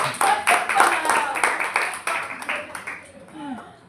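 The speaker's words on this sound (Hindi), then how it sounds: "प्रियंका के लिए ताली बजाएंगे।" Crowd applause with dense bursts of clapping, fairly loud and steady, tapering off toward the end as a voice comes in.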